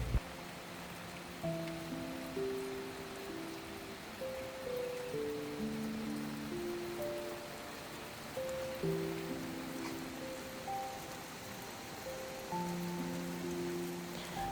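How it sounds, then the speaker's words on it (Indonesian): Night rain falling at Kasumi campsite in Sukabumi, West Java, a steady soft hiss of drops spread evenly across the whole stretch, with gentle melodic notes playing over it. "Menuju malam artinya adalah hujan pun turun."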